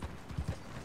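A horse walks with its hooves clip-clopping in a few soft, uneven thuds, faint and close, with a rider aboard carrying a wild boar.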